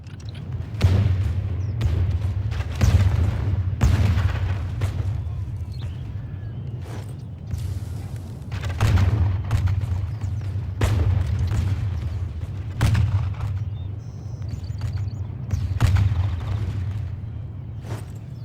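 Musket units firing in an FKoC video game battle, heavy booming volleys repeating every second or two over a constant low rumble, loud and sustained across the whole stretch.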